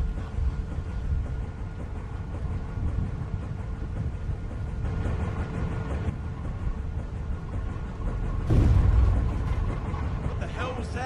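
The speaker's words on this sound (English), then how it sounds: "Transformer must have gone." A power transformer blows during a storm in The Walking Dead video game: a single sudden, loud burst rises out of steady, dense storm noise late in the clip, then settles back into the continuous rumble.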